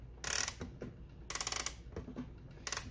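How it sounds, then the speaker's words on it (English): Winding the time side of a Philipp Haas & Söhne archtop mantle clock clockwise with a key produces close, crisp ratcheting clicks in three short bursts separated by pauses. "The right-hand side is the time, and it winds clockwise."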